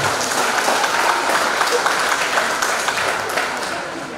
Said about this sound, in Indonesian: Beri aplaus tepuk tangan untuk narasumber kita.